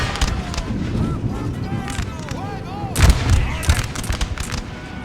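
Artillery cannon fire in the video game Empire: Total War, booming shots and crackling volleys in a busy battle mix with a heavy cluster of blasts near the middle and battlefield voices calling out.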